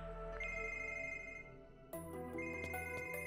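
A telephone rings in the video game Another Code: Recollection, with a clear, steady electronic ringtone tone, alone and without talk.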